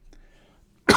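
A single sudden, loud cough bursts out close by after a stretch of near silence.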